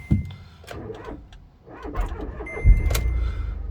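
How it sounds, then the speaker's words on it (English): A 2013 Volkswagen Polo 1.2 petrol hatchback starts up nearby, with a short starter crank followed by the engine catching into a steady idle, plus small clicks and rattles around it. "We have started the car."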